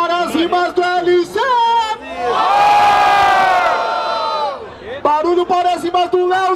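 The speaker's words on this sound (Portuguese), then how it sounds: "Barulho para as rimas do LC!" A crowd at an outdoor freestyle rap battle erupts in a loud sustained roar of cheering and shouting, with a host's amplified voice speaking before and after it.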